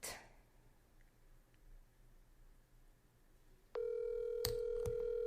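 A telephone dial tone comes on abruptly partway through and holds steady, joined by a couple of sharp keypad-style beeps as a number is dialed for a live call-in show, after a quiet stretch of low background hum.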